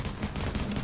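Rapid gunfire from The Division, a dense continuous rattle of shots with no clear gaps, steady and fairly loud throughout.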